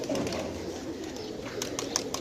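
A flock of pigeons, including a brown-necked bird, coos softly nearby, with light clicks and wing flutters over a steady low background.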